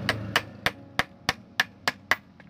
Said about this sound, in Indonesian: kita pukul menggunakan palu